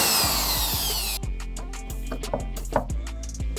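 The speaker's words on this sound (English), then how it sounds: "drill some holes into your car and mount your skirts." A power drill whirs at high pitch, winding down, then a series of rhythmic clicks and taps follows as holes go into the metal of a K11 Nissan Micra to mount side skirts made from gutter.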